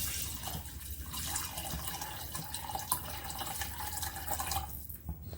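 Water poured into basmati rice in a cooking pot for chicken biryani, a soft close trickle and splash with faint drips, fairly quiet and continuous.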